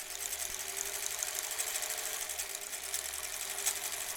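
A sewing machine stitches face masks on an assembly line, its needle running in a fast, even mechanical whir with a light rapid chatter, moderately close and steady with no talking.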